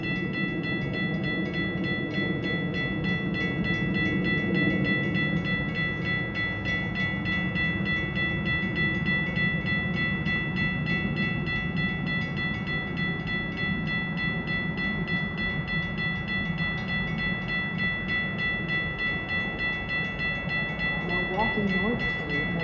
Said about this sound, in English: Milwaukee North train number 2141 to Libertyville is now arriving.